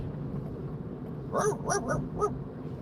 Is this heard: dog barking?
yes